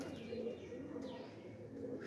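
Soft, low cooing of pigeons, one landing, repeated in a steady murmur, with a few faint chirps above, close by and without talk.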